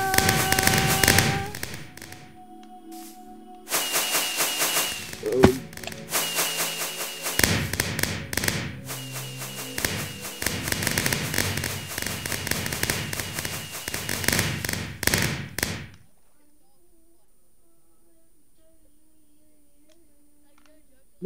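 Fireworks going off in Minecraft: dense bursts of crackling pops and thuds fill most of the stretch, with loud peaks, before dropping to near silence with a faint tone at the end.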